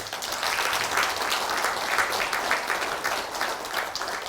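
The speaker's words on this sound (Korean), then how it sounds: "박수 한번 쳐주세요" An audience applauds during a Buddhist dharma talk, with a continuous wash of many hands clapping, even and moderately loud throughout, with no speech.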